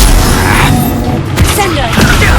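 A loud, booming spell explosion in Hogwarts Legacy, a sustained blast with deep rumble and a couple of thuds, with no speech over it.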